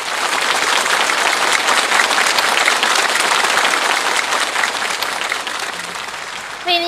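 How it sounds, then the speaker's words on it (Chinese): An audience at a Peking opera concert gives loud, sustained applause to welcome a young performer on stage. The dense clapping holds steady for several seconds and fades near the end. "掌声有请唐和香"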